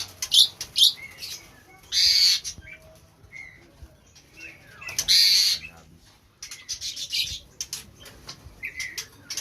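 White-rumped shama (murai batu) birds at a bird farm in Aceh, sharp bright chirps and whistled calls in short repeated bursts, some close and loud, scattered across a quiet background with a little talk.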